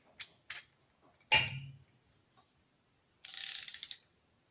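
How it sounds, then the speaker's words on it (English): A torque wrench works on a Robin 2PG golf cart engine during reassembly. A few faint, scattered clicks and one sharper clack come first, then a quick run of close ratcheting ticks that stops abruptly. "let's see here if we have the ability to run a torque wrench"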